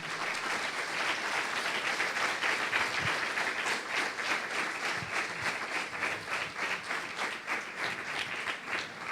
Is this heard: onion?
no